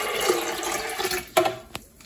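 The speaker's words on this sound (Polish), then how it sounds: "Do blendera wlewamy pół litra wody" Half a litre of water splashes and gurgles into a blender jug for a moment, then stops, followed by a couple of short knocks.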